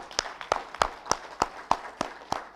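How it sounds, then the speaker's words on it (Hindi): A single person or small group claps in a steady rhythm at a seminar in a hotel hall, about eight sharp claps spaced evenly over a few seconds, close and clear over a faint room hum. "सब लोग एक बार ताली जरूर बजाते चलें"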